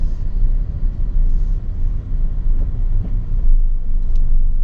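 Maruti XL6 car accelerating on a test drive while shifting through third and fourth gear, a steady loud engine and road rumble filling the cabin with no voices.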